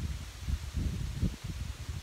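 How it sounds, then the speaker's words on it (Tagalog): Strong gusty wind rushes and buffets nearby, with leaves rustling in uneven bursts and a low rumble underneath. "Yan, napakalakas ang hangin."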